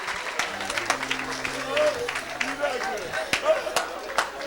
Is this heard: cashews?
no